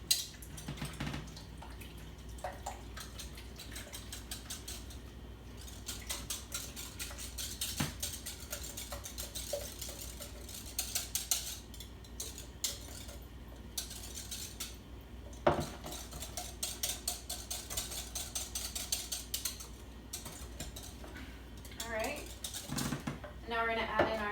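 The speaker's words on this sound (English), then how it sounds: "So we're gonna go ahead and whisk that together" A whisk clatters steadily against a bowl while sour cream custard ingredients for a Dutch pear pie are mixed, with a busy metallic scraping and tapping rhythm that runs throughout at close range.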